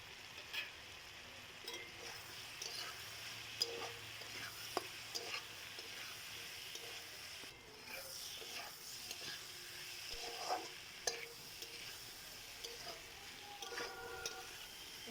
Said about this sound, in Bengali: মশলাগুলো দেওয়ার পর এখন কিছুক্ষণ নেড়ে ফেড়ে দিতে হবে এবং ভালোভাবে কচিয়ে নিতে হবে